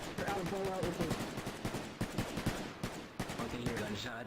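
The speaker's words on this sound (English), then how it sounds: "I can hear gunshots." Rapid gunfire in Garry's Mod military roleplay, dense bursts of automatic shots crackling continuously under overlapping voices talking.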